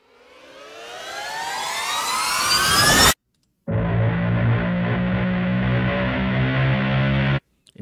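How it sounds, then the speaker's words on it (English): Cinematic trailer risers from the AVA Music Group Quantum library: a loud effect climbs steadily in pitch and intensity for about three seconds and cuts off sharply, then after a short gap a dense, sustained tonal swell holds steady until it stops abruptly. "Risers, here we go."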